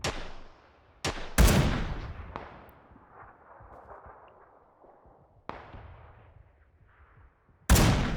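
Several sharp gunshots from the video game PUBG ring out at irregular intervals, each with a quick decaying echo, separated by quieter stretches of low rumble.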